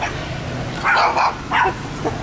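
Several sharp barks from a very small dog aimed at people walking by on a street in Haiphong, Vietnam, two close loud bursts followed by a fainter yip, with no talk.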